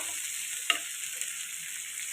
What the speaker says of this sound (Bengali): এবার এটাকে নাড়বো ভালো করে